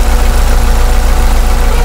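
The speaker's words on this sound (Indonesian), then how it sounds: "nih kalau teman-teman bisa dengar nih suara mesin agak turun sedikit" A car engine idling during PCV valve maintenance, heard close and loud as a steady low rumble with an even, rapid pulsing rhythm.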